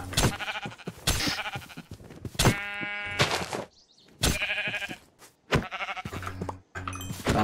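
Sheep bleat repeatedly in RLCraft, a modded Minecraft survival game, with several distinct wavering cries separated by short gaps, fairly loud and close, with no talking over them.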